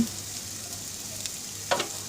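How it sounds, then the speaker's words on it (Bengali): Onions and green chillies fry in a hot pan, a faint, steady sizzle with a brief louder crackle and stir near the end. "প্রথমে কড়াইটাকে গরম করে নিয়ে পেঁয়াজ কাঁচামরিচ দিয়ে নিলাম।"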